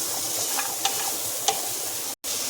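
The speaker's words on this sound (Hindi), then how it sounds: "अब इसमें डालेंगे ये देखिए प्याज लहसुन को भी भून लेंगे" Onion and garlic frying in oil in a pan, a soft steady sizzle broken by a few light clicks of stirring, close with no talk and a brief dropout near the end.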